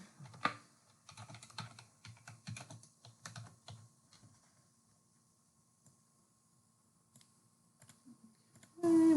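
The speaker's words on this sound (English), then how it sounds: "We're just going to type it." Typing on a computer keyboard while laying out a resume, heard as close, irregular bursts of clicky keystrokes in quick runs with short pauses, thinning out toward the end before a brief loud noise.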